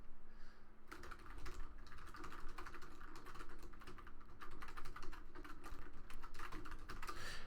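Quick, irregular clatter of keys being typed on a computer keyboard, close and fairly quiet, in steady bursts of rapid keystrokes across the whole stretch, with a faint low hum underneath and no speech.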